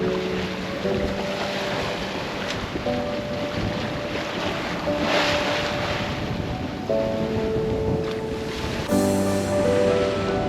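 Sailboat cruising off mainland Guadeloupe with the headsail out, steady wind rushing over the microphone and waves washing along the hull throughout, with faint creaks and occasional tonal rigging hums.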